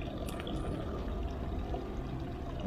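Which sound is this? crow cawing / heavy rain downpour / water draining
water draining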